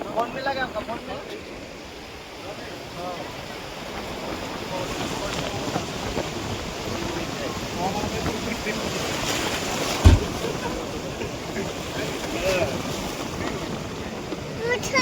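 Sea waves and wind wash around a car stranded in seawater, a steady rushing surge with gusting wind noise throughout and a brief thump near the middle; people talk over it.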